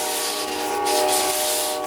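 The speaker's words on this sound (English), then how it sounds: "So I pulled it into the backyard and set about sanding the entire thing." A power sander works over the exterior of a camper in a backyard, a steady close whirring hum with rough scraping texture and a distinct tonal whine.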